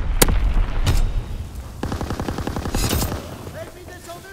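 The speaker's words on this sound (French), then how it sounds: "Tir de mortier en cours." Mortar fire in Call of Duty WWII, a couple of heavy thumping blasts followed by a fast rattling burst of gunfire, loud and close, with a voice speaking over the battle.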